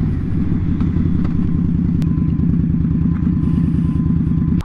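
A 2020 Indian Scout Bobber motorcycle rumbles along at steady speed, its engine loud and close with a constant throbbing drone and road noise, ending abruptly.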